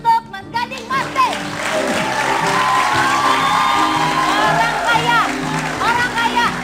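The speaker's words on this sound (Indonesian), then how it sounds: "Tepuk tangan untuk Mas Gading Martin." Studio audience on an Indonesian TV talk show cheering and applauding for guest Gading Marten, a loud, sustained crowd roar with whoops, with a host's voice and music blending in over it.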